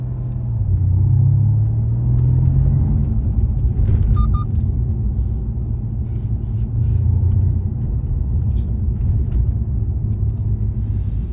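A Mercedes C63 S AMG V8 idles and runs with its variable exhaust valves open, producing a loud, deep and steady burbling rumble that swells briefly early on.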